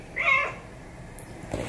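A house cat beside a tap gives one clear, close meow, followed by quieter faint household noises.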